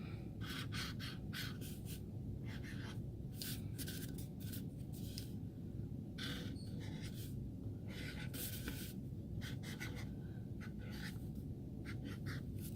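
A marker writes a name on paper in repeated short squeaky strokes, close and quiet, with pauses between bursts over a steady low background hum.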